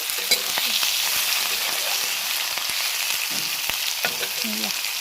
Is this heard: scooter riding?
no